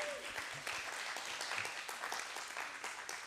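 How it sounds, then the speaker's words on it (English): Congregation applause at a church's fourth-birthday Sunday service, a brief, fairly distant patter of clapping with only faint talk beneath. "Let's give her a round of applause also."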